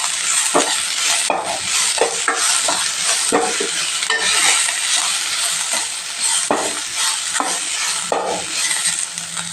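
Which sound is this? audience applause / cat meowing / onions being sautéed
onions being sautéed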